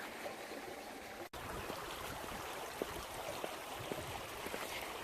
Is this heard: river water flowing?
yes